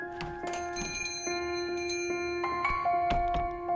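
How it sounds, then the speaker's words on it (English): Bright bells over a shop door jingle with several sustained ringing tones and a few sharp strikes, close by and fairly steady across the moment. "The bells over the door jingle as she leaves."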